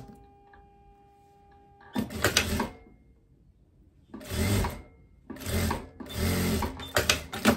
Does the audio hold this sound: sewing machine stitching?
yes